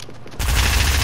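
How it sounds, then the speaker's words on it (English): Sudden burst of video game gunfire hitting the player, a dense loud fusillade starting after a brief quiet moment and continuing steadily to the end. "How do I just get shot?"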